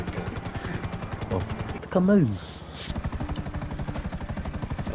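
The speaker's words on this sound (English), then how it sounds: "he's in the helicopter." A video game helicopter's rotor thumps in a fast, steady rhythm, loud and close, with a short break where a voice speaks before the chopping resumes.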